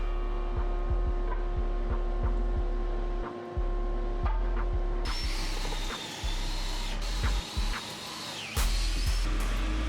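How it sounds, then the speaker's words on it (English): A power drill pre-drills holes in wood for lag bolts, running in short bursts with brief pauses between them, whining steadily against a constant background hum. "Then I pre-drill all the holes for the lag bolts to go in."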